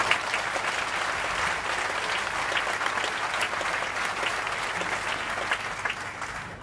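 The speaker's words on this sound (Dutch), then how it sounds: "Geef ze nog een groot applaus." An audience at an outdoor festival on a town square applauds a harpist and cellist. The clapping is dense and sustained at an even level for several seconds, with no voices over it.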